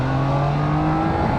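A 2021 Triumph Trident 660 motorcycle engine revs hard and climbs in pitch, a loud, steady, close drone from on board the moving bike.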